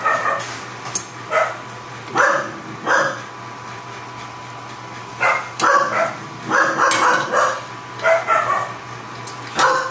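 Dogs bark indoors in a house while sinigang na bangus (milkfish) is cooked, with repeated bursts of barking and yips coming in irregular clusters across the whole stretch over steady kitchen background noise.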